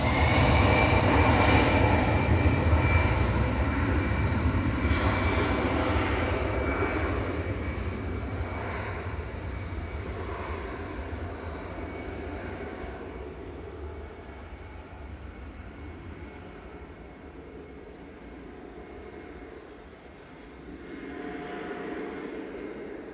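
EasyJet Airbus A319 departing Manchester Airport for Milan, its engine roar loud and broad at first, then gradually fading and thinning as the jet climbs away, with a slight swell near the end.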